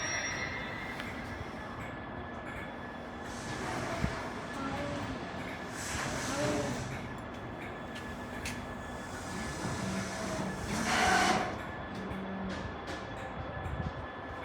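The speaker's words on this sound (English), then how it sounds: "Have you ever been that close to a freight train?" A freight train rumbles past nearby, a steady broad roar of wagons with occasional metallic squeals rising over it.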